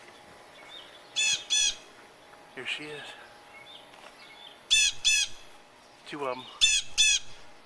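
A protective mother bird gives harsh, repeated squawks in short bursts near baby birds in tall grass at home. Several loud calls come close together, while someone speaks briefly between them.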